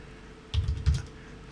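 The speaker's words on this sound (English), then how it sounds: "and I'll keep on typing" A few quick keystrokes on a computer keyboard, two short clustered bursts of clicking heard close and alone over a faint room hum.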